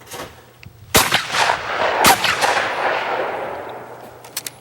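Shotgun fire at clay targets during outdoor skeet shooting on a doubles pair: two loud, sharp blasts about a second apart, each followed by a long echoing rolldown, then faint clicks as the gun is handled.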